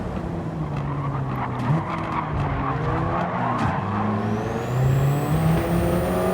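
Race cars in a racing video game at a tricky corner of Deep Forest Raceway, with a loud, steady engine drone, overlapping tire skids, and a rising whine near the end.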